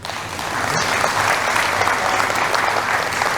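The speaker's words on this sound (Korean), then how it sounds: "응원의 여러분 박수 한번 보내주시죠" Rotary district seminar audience applauds in a hall, a full, steady wash of clapping from many people that swells quickly and holds.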